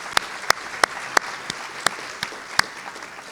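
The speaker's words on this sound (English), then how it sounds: "Let's give all of them a round of applause." Sparse, distinct claps ring out at a civic State of the Fifth District event honoring local chambers of commerce, about eight sharp separate hits spaced unevenly over a low background rather than a full ovation.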